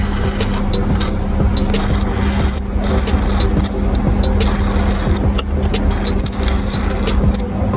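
Coolant and air hiss and gurgle from the bleeder of a Suzuki DA64 engine during cooling system refilling, a loud, close, continuous spluttering rush with scattered crackles and intermittent bursts.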